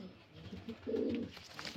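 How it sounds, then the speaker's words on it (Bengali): A pair of yellow-eyed pigeons, a male and a female, give one short, soft, close coo, faint against a quiet background with light incidental noises. "এই যে দুটো হলুদ চোখের পায়রা"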